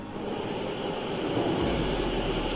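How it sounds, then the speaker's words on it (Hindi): An Ahmedabad Metro train pulls into its last station with a loud, steady rumble of wheels and running gear, heard close on the platform with no talking. "ये अप्रैल पार्क से आई हुई मेट्रो ट्रेन है।"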